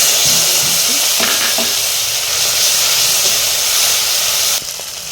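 A bay leaf and dried chili fry in hot mustard oil, a loud continuous close sizzle and hiss with light stirring clatter, which drops away abruptly near the end.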